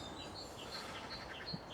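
Small birds chirp in scattered short calls amid trees by an industrial estate, light and fairly distant over a steady outdoor hiss, with no voices.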